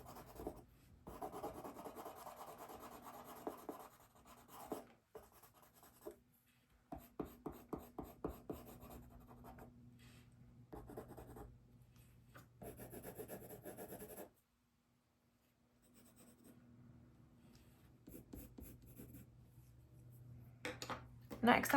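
Colored pencil in a salmon shade rubbed over paper to smooth a grainy texture, a dry, scratchy shading stroke repeating in quick bursts, close and moderately loud, with a quiet pause near the end before strokes resume.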